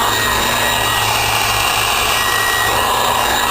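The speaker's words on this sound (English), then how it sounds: "Now let's see if it'll hold this blower or not." An electric blower for a charcoal gasifier runs loud and steady, a dense broadband whoosh with a constant motor whine and no pauses or talk.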